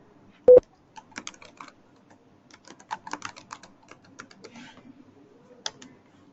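Computer keyboard typing while filling in username, password, name and email fields, with irregular bursts of light, close clicks broken by short pauses and one louder thump near the start.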